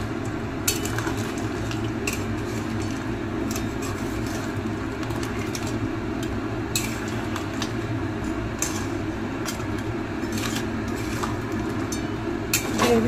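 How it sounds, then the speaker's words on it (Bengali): Spiced crab curry being stirred in a pan, a steady bubbling simmer under repeated light scrapes and clinks of a spoon against metal, no voices. "নাড়িয়ে নেবো।"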